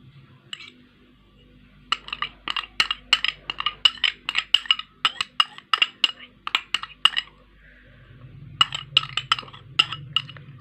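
Ghee being mixed into flour in a bowl for nankhatai dough, with close, rapid clinks and taps of a spoon against the bowl coming in quick irregular bursts, a short pause, then more clinking.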